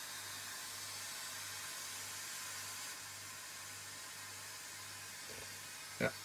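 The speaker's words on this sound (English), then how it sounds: "let's go back to the white noise" Steady, even hiss of white noise from a Zener diode noise circuit in a modular synthesizer, with a faint low hum underneath, ending in a brief click.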